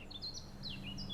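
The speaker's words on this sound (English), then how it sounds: "The birds singing, the bees buzzing." Birds sing in a sunny outdoor scene of The Witcher 3, a few faint, high chirps and short tweets sounding at a distance over a low background ambience.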